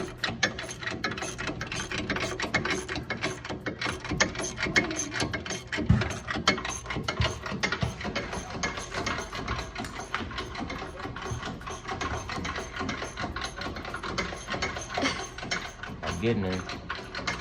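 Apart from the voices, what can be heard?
ratchet with socket spinning down a bolt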